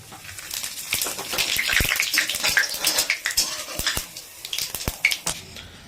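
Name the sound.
whole spices sizzling as added to hot oil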